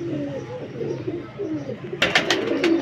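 Teddy pigeons coo in low, soft, rolling burbles close by, and a scuffle of clicks and taps joins in near the end.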